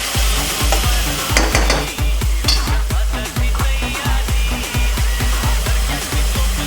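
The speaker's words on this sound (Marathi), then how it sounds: "इथे आपला कांदा आणि टॉमॅटो शिजत आलेला आहे" Onion and tomato sizzle loudly in a pan while being stirred, with a steady rhythm of scraping strokes repeating close up throughout, no talking.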